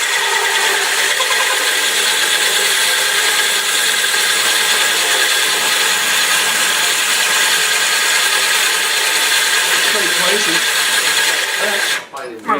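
A drill grinds through glass with a harsh, abrasive scraping hiss, loud and continuous, cutting off near the end with a brief clatter.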